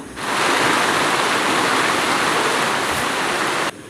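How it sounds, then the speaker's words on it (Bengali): Heavy rain pours down in a dense, constant hiss that stays loud and even for several seconds, then cuts off abruptly. "আর রেডি হওয়ার পরে আয় পড়ছে বৃষ্টি অনেক জোরে। তো এত বৃষ্টি তোমরা দেখো।"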